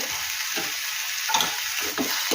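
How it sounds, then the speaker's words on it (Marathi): Onion and green chilli paste sautés in a hot pan, a steady bright sizzle with soft scraping stirs every half second or so, close and continuous throughout. "आता हे थोडंसं सॉफ्ट होईपर्यंत आपण परतून घेऊया"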